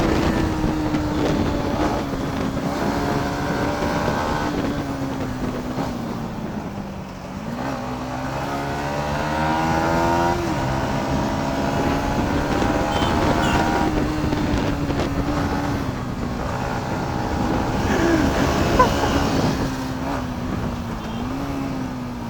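KTM Duke motorcycle engine droning loud and steady outdoors under heavy wind rush, its pitch sliding down and then climbing again as the bike pulls away with quick pickup.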